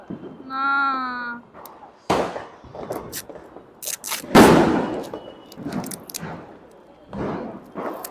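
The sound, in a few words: Diwali firecrackers exploding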